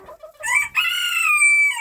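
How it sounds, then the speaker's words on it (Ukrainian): A bantam rooster crows close by, a single drawn-out, strained cock-a-doodle-doo following a few short clucks from the small hens and roosters. "таких малих моїх курочоків і півних"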